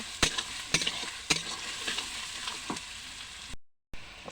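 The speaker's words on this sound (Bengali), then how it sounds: "রসুন বাটা দিয়ে ভালোভাবে মশলাটা গন্ধ না যাওয়া পর্যন্ত আমি নেড়ে নেব।" Spice masala with garlic paste fries in a pan for a goat meat curry, a low sizzle broken by several sharp spatula scrapes and knocks against the pot, then a sudden brief silence.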